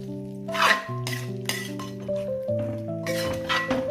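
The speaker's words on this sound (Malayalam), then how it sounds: "ഇനി ഇതിനെ നന്നായിട്ടൊന്ന് ഇളക്കി യോജിപ്പിക്കണം." Masala mixed with thick yogurt in a pot for chicken biryani, heard as close metallic clinks and scrapes of a spoon against the vessel, irregular and fairly loud, with a soft wet stirring under them.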